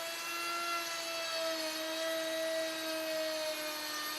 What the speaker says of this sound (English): With stop blocks clamped on each end of the workpiece, make the first routing pass.